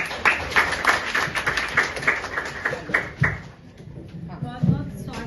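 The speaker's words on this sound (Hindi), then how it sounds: "जोरदार तालियां होनी चाहिए" An audience at a women's forum event in Kanpur claps sparsely for a guest speaker, the short, uneven claps fading under a voice talking over them.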